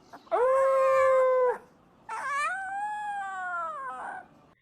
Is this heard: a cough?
no